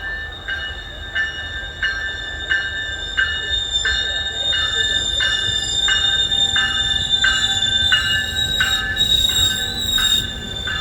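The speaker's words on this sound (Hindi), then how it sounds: "तो ये ट्रेन आ गई है हमारी" A double-decker GO Train pulls into a Toronto station, its wheels squealing in loud, sustained metallic tones that pulse in a steady rhythm over a continuous low rumble.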